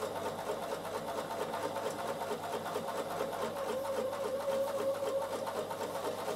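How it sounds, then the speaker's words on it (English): A sewing machine runs steadily, straight stitching fabric with a long stitch in one continuous, close mechanical whir, with no voices. "just straight stitch all the way around with a long stitch."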